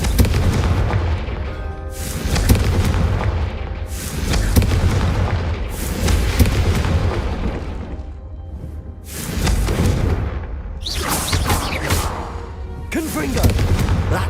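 Confringo fire spells cast in a wizard video game, a series of heavy booming blasts roughly every two seconds, loud and close, with brief voices between the explosions.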